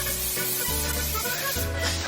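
Water is poured into a pot of fish seasoned with salt and black pepper, giving a loud, close hissing splash that is broken by a few short pauses.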